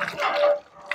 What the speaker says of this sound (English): we are going to pump out water and we see how it is coming